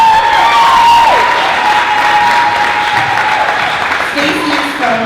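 Sustained applause from an audience at the Ms. Wheelchair America 2019 speech night, greeting contestant Miss Wheelchair Washington. Steady, dense clapping with some crowd noise runs loudly through the whole stretch.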